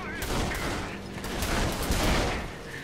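Gunfire during a chaotic shootout in the open-world game Saints Row: The Third, a dense muffled barrage of shots and impacts that swells and fades over a few seconds.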